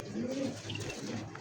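Young pigeons at a pigeon farm coo in soft, low, rolling calls. The cooing is close and fairly quiet, and repeats over a steady background with no talking.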